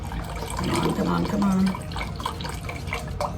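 Chicken stock pours into a measuring cup in a home kitchen, a gurgling liquid stream that rises in pitch as the cup fills, with someone talking briefly over it.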